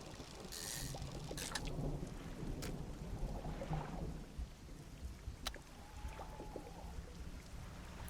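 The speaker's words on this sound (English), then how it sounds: "Ooh, and it's stormy." Stormy night at sea in the fishing game Dredge: low rumbling thunder and rain-like wash beneath a small boat, with sharp crackles and a faint tonal chime, all quiet and continuous.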